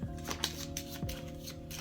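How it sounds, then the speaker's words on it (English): A deck of cards is shuffled by hand in a quiet room, with soft riffling flutters and light taps repeating at a close, low level. "So let's go ahead and shuffle up my late find cards."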